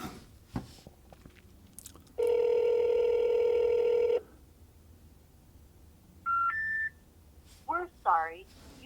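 Telephone tones ring out during a phone call: a loud steady tone lasting about two seconds, then a pair of short beeps, with brief speech-like sounds before and after.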